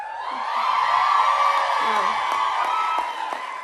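A large crowd at a Hillary Clinton rally cheers and whoops, with sustained high yells and shouts blending into a loud, continuous roar heard from within the audience.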